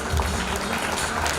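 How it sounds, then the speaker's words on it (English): At a special school's silver jubilee celebration, the audience keeps up a brief burst of steady clapping for students going forward to receive certificates. "Please keep clapping for them."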